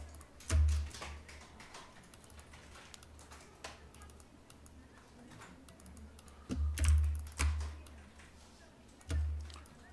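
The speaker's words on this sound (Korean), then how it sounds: "왼쪽 정렬 걸어놓고 컨트롤 알트 시프트 N 눌러서" Computer keyboard keys pressed for a Ctrl Alt Shift N shortcut in InDesign, a few scattered close clicks and thumps over a quiet room.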